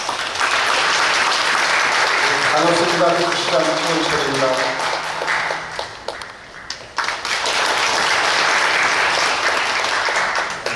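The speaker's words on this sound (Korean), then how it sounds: "우리 나오실 때 박수 한번 쳐드리겠습니다" A gathered audience at a church service marking a pilgrimage-route chapter launch in South Chungcheong applauds loudly as the city mayor comes forward. The sustained, dense clapping briefly gives way to his short spoken greeting, then swells again.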